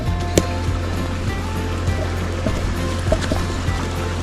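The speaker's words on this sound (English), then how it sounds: "There's some fresh running water." Fresh water runs in a forest creek near Mount St. Helens, a steady close rushing and gurgling with a low hum underneath and no talk.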